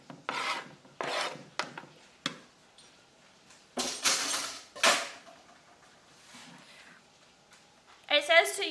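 Cut-up chiles are dumped into a blender jar in a home kitchen, producing repeated scraping, rattling bursts and clinks of glass and utensils, with a voice heard at the end.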